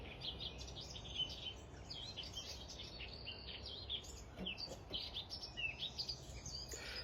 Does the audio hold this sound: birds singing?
yes